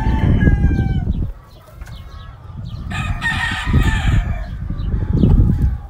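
A Lacy Roundhead gamefowl rooster of the Carl Davis Lacy line, white-legged and round-headed, crows loudly at close range, with a second drawn-out crow a few seconds later and steady farmyard noise between calls.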